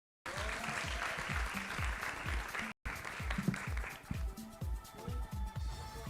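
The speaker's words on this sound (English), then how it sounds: "Let's give them a round of applause, everyone." Audience applause at a Miss Earth pageant event welcoming a group of African delegates, moderately distant and continuous, with a brief cutout partway and a rhythmic low thumping beat underneath.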